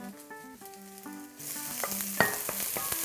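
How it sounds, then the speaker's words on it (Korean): Green onion and garlic sizzle in hot chili oil in a wok, starting softly with utensil clinks and then bursting into loud, steady frying hiss as they are stirred. "파 마늘을 먼저 잘 볶아줘야 돼요."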